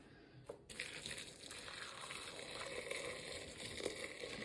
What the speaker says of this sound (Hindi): अब इसमें मैं डाल रही हूँ मेरा गरम पानी